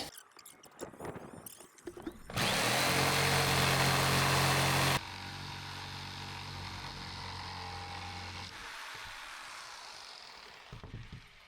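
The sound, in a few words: power tool cutting plywood subfloor template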